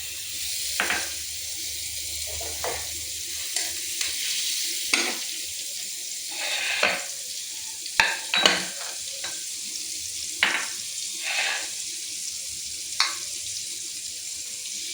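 Butter sizzles and fries steadily in a pan as the first step of a chicken bharta, with a continuous hiss broken by intermittent stirring scrapes and clinks close by, no talking.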